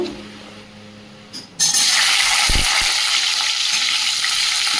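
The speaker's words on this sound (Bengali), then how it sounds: "কড়াই দিয়ে দিয়েছি তেল কলা আর আলুটা ভেজে নেব" After a short clatter, hot oil in a kadai bursts into a loud, steady sizzle as bananas and potatoes are dropped in to fry, continuing without pause.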